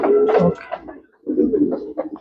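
Pedigree pigeons kept in a home collection coo in two soft, throaty bursts with a short gap between them, close and fairly loud, with no talking.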